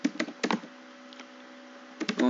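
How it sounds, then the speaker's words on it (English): Typing on a manual computer keyboard, with a few clustered keystroke clicks at the start and again near the end, separated by a quieter stretch with a steady background hum. "So simply I will write simply with the help of this manual keyboard."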